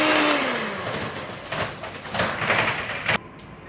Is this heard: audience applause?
no